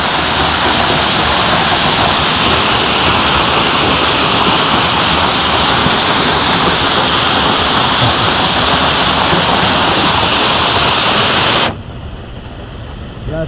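Waterfalls on the Güejar river, a steady, loud broadband roar of rushing water filling the scene before dropping off sharply near the end.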